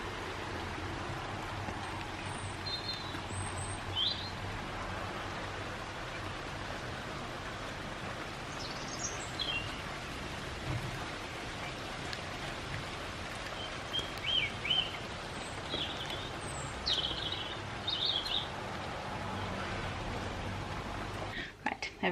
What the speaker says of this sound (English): I love listening to the sound of the birds in the rain